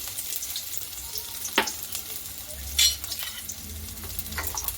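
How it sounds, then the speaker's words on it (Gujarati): Ginger-chili paste dropped into hot oil for cabbage Manchurian gives a soft crackling fry with sharp spatters and bursts of sizzle, close and unvoiced. "તો આપણું તેલ ગરમ થઈ ગયું છે. હવે તેમાં આપણે આદુ મરચાંની પેસ્ટ એડ કરીશું."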